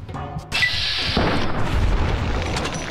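A single heavy gunshot from a 10mm weapon in Fallout New Vegas, a loud booming blast that opens with a sharp crack and then rolls on in a long, dense rumble, with no talking.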